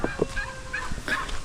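A new batch of freshly bought chicks peeps close by, a few short chirps in quick succession over a faint background.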